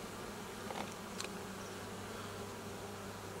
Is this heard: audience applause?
no